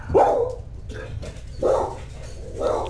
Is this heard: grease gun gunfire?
no